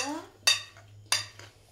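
Spoon striking a bowl twice with sharp clinks while mixing cucumber and radish with chaat masala and chili, quiet close-up with brief ringing after each hit.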